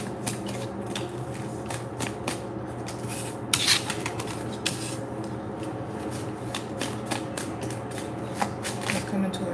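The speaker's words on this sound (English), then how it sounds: "I'll pull some cards from the tarot deck" Tarot cards are shuffled and rubbed together in soft repeated papery riffles and slides, faint and close, with a few sharper flicks in a quiet room.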